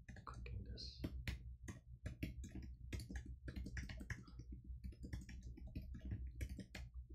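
Fast, uneven keyboard typing with many sharp clicks close to the microphone, heard alone without speech while working through a coding problem.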